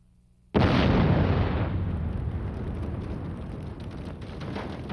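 A huge explosion evoking the 1917 Halifax ship collision blast bursts in suddenly after a brief quiet moment, then rolls on as a loud, dense, sustained rumble that fades only slightly.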